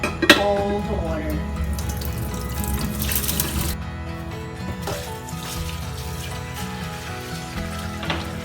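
Rinse water pours and splashes out of a container of soaking bean sprouts into a sink, a steady close running-water sound with clatter of the container.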